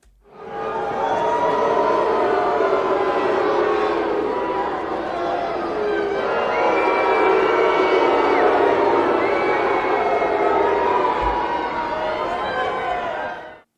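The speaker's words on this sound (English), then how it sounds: "You just hear this overwhelmingly piped-in crowd noise" Dense crowd noise at a wrestling show, a continuous wash of cheering, shouting and whoops, loud and sustained from start to finish, artificially piped in.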